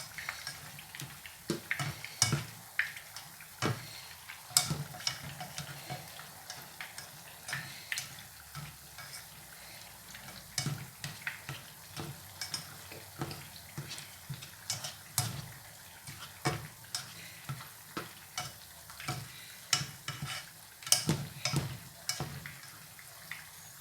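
A vegan dish fries in a pan while being stirred, quiet sizzling under a run of sharp, irregular clicks and scrapes of a utensil against the pan.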